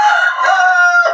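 Rooster crowing on a farm in Göyçay, one long loud close crow, harmonic and drawn out, with no talk over it.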